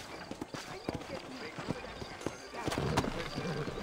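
Horse hooves in the video game Red Dead Redemption clip-clop in a quick, uneven rhythm at moderate distance, with other movement noises around them.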